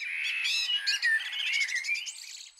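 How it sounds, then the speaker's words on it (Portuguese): Small birds chirp and trill in quick, bright, overlapping calls in a forest in the Cariri region of Ceará, where woodland meets caatinga and cerrado, close and clear with no other noise. "o que vamos ouvir por aqui é o cantar dos passarinhos"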